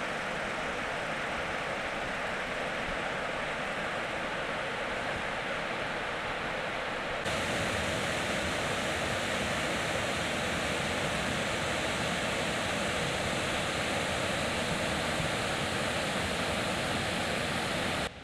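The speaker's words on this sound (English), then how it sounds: "the river sounds really pretty down here" Rushing river rapids at the Menominee River Recreation Area roar as a steady, dense wash of white water, continuous and close for the whole stretch with no voices.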